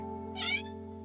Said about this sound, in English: My cat's here saying hi.